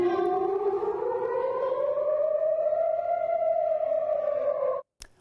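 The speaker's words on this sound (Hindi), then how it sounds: "सायरन बजते हुए इन तस्वीरों में नजर आ रहा है।" Air-raid sirens wail at Ben Gurion Airport during a missile attack, a loud, steady rising tone with layered harmonics that holds for several seconds before cutting off abruptly near the end.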